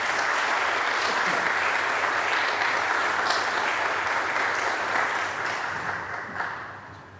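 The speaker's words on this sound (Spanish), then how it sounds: "Vamos a recibirlas con grandes aplausos." Continuous applause from a church audience welcoming two women singers before a worship song, steady and dense for several seconds, then easing off toward the end.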